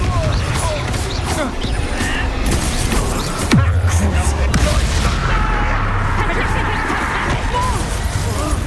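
A Confringo explosive spell detonates in a video game: a sudden booming blast with a falling whoosh, followed by a second crack, over steady background music and game ambience.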